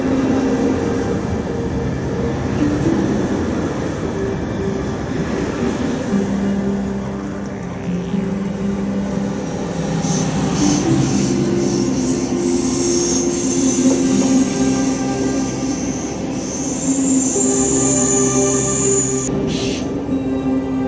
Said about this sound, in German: Auch die regelmässig vorbeifahrenden Züge würden näher rücken.